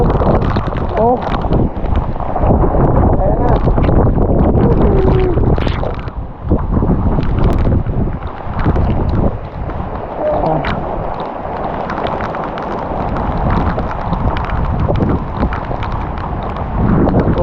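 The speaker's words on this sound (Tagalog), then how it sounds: "lakas ng hangin pati ulan" Steady, roaring wind noise with a broad rush of rain, blustering hard against the microphone throughout with no letup, on Lubang Island.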